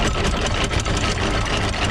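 Both engines of a yacht run in reverse after the anchor is dropped, a loud, steady, close mechanical drone with a throbbing low rumble and no pauses.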